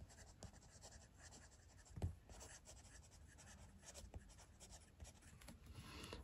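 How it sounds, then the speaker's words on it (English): A Franklin Christoph Model 31 Omnis fountain pen with a broad steel nib scratches softly across Clairefontaine paper, a faint, close, continuous rustle with small tapping strokes and no talk. "Let's do a quick writing sample now. I have Clairefontaine paper here."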